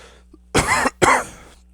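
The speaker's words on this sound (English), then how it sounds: "if I'm coughing a little bit" Two sharp, close coughs in quick succession over a low, steady background hum.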